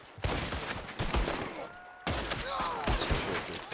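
Gunshots in Red Dead Redemption 2, a string of loud, sharp cracks spaced about half a second apart, with ringing tails and game ambience between them.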